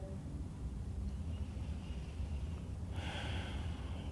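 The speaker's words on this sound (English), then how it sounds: "Take a deep breath here." During a seated chair yoga session, a person takes slow, deep breaths that are quiet and close. A longer breath swells audibly partway through.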